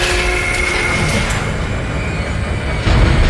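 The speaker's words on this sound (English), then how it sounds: "Replacing damaged tram car." A tram car rolls along its tracks in the video game Dead Space, with a steady rumbling clatter of wheels and a faint squeal on top. The rumble swells louder near the end.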